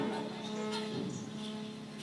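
A buffalo lowing in a rural Chhattisgarhi folk performance setting, one drawn-out moo that is loud and close and holds for about two seconds.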